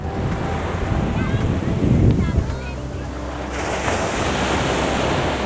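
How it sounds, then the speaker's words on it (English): Ocean waves washing onto a beach as high tide comes in, a steady rush of surf with a louder surge partway through, mixed with wind buffeting the microphone. "High tide's moving in."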